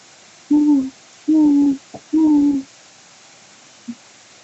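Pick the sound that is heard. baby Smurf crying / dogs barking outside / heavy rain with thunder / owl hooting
owl hooting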